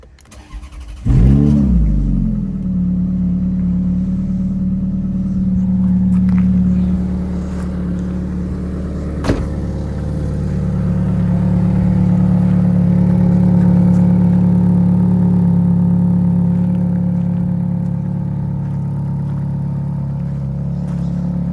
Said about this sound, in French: on va vous la démarrer quand même pour que vous puissiez entendre la mélodie du V8 atmosphérique